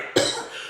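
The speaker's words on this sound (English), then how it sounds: "I can't seem to get over this cough." A single sharp cough bursts out close to the microphone, then trails off into a quieter rasp with no talking around it.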